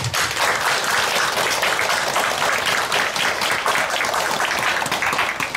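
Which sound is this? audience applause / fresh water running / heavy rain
audience applause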